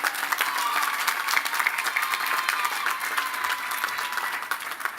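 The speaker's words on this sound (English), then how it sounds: "A round of applause for our faculty." An audience at a morning ceremony applauds the faculty with dense, continuous clapping from many hands at even loudness, no voices above it.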